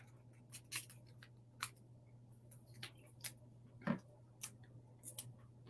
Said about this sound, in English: I should have my non-stick scissors here.